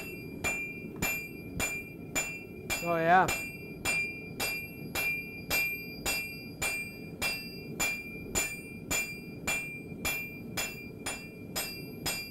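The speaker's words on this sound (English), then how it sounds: "as I hammer on just one of this edge" Metal hammer strikes on the hot edge of a blade at a forge, a steady even rhythm of sharp ringing blows running throughout, with a brief voice heard once between strikes.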